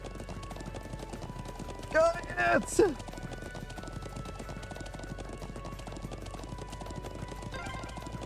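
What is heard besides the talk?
horse galloping, video game Trails of Cold Steel II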